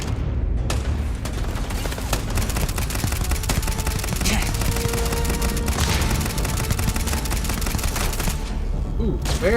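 Rapid sustained gunfire in Starfield, dense automatic bursts running almost without pause at close range, loud and continuous throughout.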